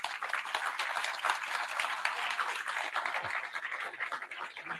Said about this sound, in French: je vous propose de les applaudir.